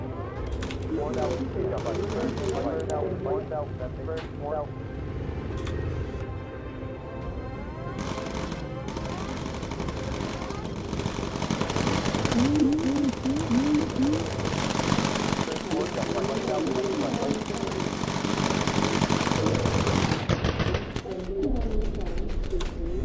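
Gunfire in a video game: bursts of shots crackle intermittently beneath ongoing talk, with cooing pigeon-like calls mixed in and the firing growing denser in the second half.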